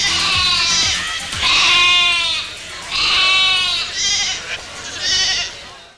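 A black sheep bleats loudly and close, four or five wavering cries in a row separated by short pauses, with no other sound competing.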